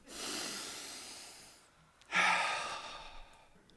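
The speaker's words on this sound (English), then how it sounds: "Let's all take a deep breath together." A gathered group at a memorial takes a deep breath together: a long shared inhale followed by a pause and a louder collective exhale, breathy and close.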